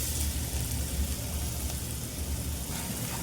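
Grated sweet potato sizzling in hot ghee in a kadhai, a steady, even crackling hiss that carries on without a break.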